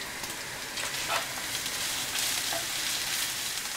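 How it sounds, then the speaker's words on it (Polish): Mortadella sizzling and crisping in a frying pan as onion is added, a steady, close crackle with faint stirring and no voices. "mortadela mi się tu już ładnie podsmaża, już jest tutaj chrupiąca"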